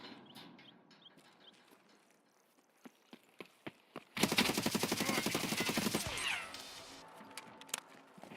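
Rapid automatic fire from 9mm submachine guns in a video game, a dense burst of sustained shots with mechanical clatter, preceded by scattered single sharp cracks and followed by quieter rattling and handling sounds.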